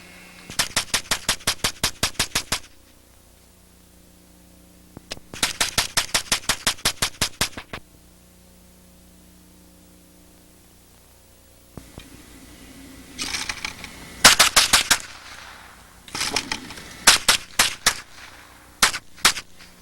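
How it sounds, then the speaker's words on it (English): A 10/22 rifle fitted with an all-metal Delta feed system firing rapidly at a shooting exhibition, bursts of quick crisp shots in several strings separated by pauses, with no talking. "you can see the all-metal Delta feed system in operation for the 1022 rifle"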